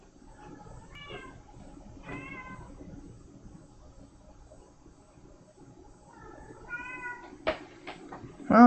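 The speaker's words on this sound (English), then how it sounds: "if you can hear a cat meowing," Pet cat Kiba meows in several separate drawn-out calls, fairly close and alone in a quiet room, followed near the end by a few sharp knocks and clatters.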